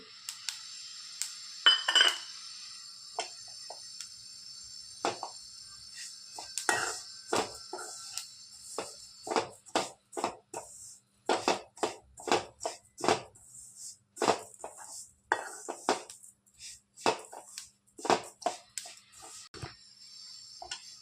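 Faint crackling and popping of sesame seeds and coconut roasting in a pan, with irregular sharp clicks and a steady high sizzle, no one speaking.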